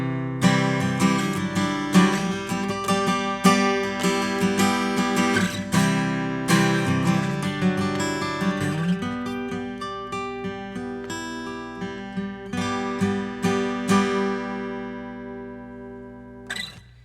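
Acoustic guitar strummed with a thicker, heavy Dunlop pick, a steady run of bright, full chords with crisp attacks that ring out and fade near the end, played alone and up close.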